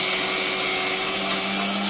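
A mixer grinder grinding dried red chillies into chili powder gives a loud, steady motor whir with a constant hum that runs through the whole short stretch without a break.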